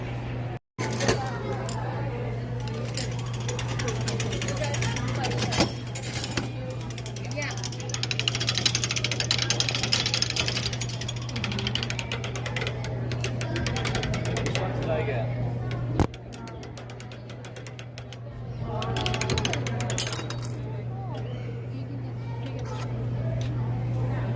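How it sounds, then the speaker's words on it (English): A hand-cranked coin-elongating machine presses 1941 Wheat pennies, making a loud, continuous mechanical grinding and rattling over a steady low hum, with a few brief pauses and people talking nearby. "I'm going to elongate some 1941 Wheaties in this machine here"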